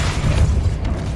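A Depulso spell cast in Hogwarts Legacy to spin a mechanism, a loud, close, low rumbling boom that swells and sustains for about a second.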